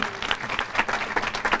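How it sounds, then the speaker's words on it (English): At a charter school event in Wilmington, a group gives a brief, lively round of applause, with distinct claps close by. "Okay, nice round of applause."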